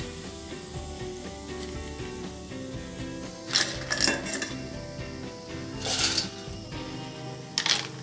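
Potato chips frying in oil, stirred and lifted with utensils, giving repeated metallic scrapes and clinks against the pan over a steady sizzle, with a few louder bursts of stirring.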